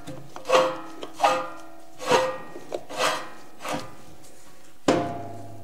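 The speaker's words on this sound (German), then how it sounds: "Und jetzt schraube ich das Ganze wieder fest." Parts of a Landig WD 300 meat grinder being screwed back together: five or six separate rasping, scraping bursts of metal and plastic threads turning, each about a second apart, close and fairly loud, ending in a sharper knock, with no talk.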